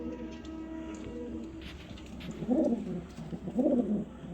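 Pigeons of fancy breeds kept for sale cooing close by, two distinct soft throaty coos spaced about a second apart over a faint background.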